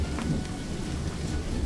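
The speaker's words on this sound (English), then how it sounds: "Wow, what a big rainstorm." Heavy thunderstorm rain pouring steadily, a dense close hiss with low rumbling thunder beneath, continuous and unbroken for a short stretch.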